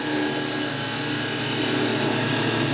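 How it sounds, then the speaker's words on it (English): A lathe spun up to higher speed with a negative rake scraper taking gentle finishing cuts, giving a steady, loud, continuous whine and hiss with no pauses and no talking. "You can also get cleaner cuts if I speed the lathe up, which I've just done."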